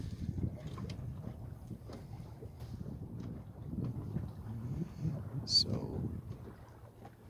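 Wind and water rush past a trailer-sailer sailboat under sail with its mizzen set on a sunny day, a steady low wash with wind buffeting, and someone speaking briefly over it.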